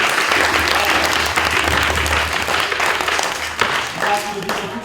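A crowd applauds girls after their dance, with dense, steady clapping running the whole time and some voices mixed underneath.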